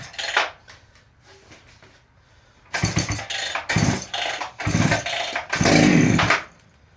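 A Husqvarna G395XP chainsaw being started with the choke pulled out and decompression pushed in. Several loud, close bursts of cranking and sputtering come in quick succession, then the sound cuts off.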